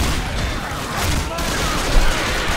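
Grenade launcher fire in the video game Left 4 Dead 2, a dense barrage of explosive booms and gunfire packed tightly together under game noise, loud and continuous throughout.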